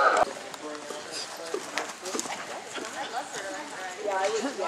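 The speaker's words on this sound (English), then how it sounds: "Walk your horses and walk to the center." Horses walk around a show arena at the APHA World Show, their hooves clip-clopping softly beneath steady announcer talk and general arena noise.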